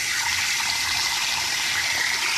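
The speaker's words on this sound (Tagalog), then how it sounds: "Lagyan natin ng konting tubig" Water is poured into a pot of crab stew simmering in coconut milk, giving a brief, steady, close splashing gush with no pause.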